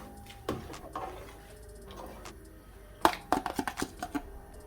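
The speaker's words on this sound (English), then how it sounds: "And stir that in." A spoon stirs ingredients together in a bowl with quiet scrapes, then a quick run of sharper clinks and taps toward the end, close and fairly faint, with no talking.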